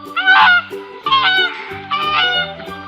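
A swan gives three loud, harsh honking calls in a row, each about half a second long, with no other sounds around them.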